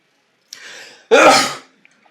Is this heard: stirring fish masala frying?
no